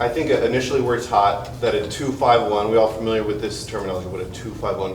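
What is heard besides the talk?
No distinct noise like a dog, phone or traffic.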